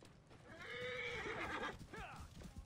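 A horse in the video game Assassin's Creed Origins whinnies in a long, wavering neigh followed by a shorter snort, with hooves clopping faintly underneath.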